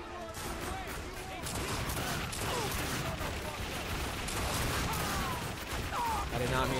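Continuous gunfire in The Darkness 2, a dense, loud barrage of rapid shots and mechanical clatter running steadily through the whole stretch, with speech mixed in.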